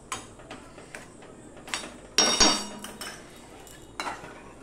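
A ladle mashing poha into a paste in a bowl, a series of close, irregular clinks and knocks of metal against the bowl, with one louder scraping clatter partway through.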